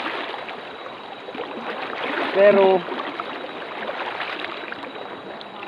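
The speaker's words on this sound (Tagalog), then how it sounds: "malakas ang tubig" A shallow, fast-flowing river rushes and babbles steadily nearby in a continuous hiss, in the Sierra Madre mountains at Dingalan, while a voice speaks briefly over it midway.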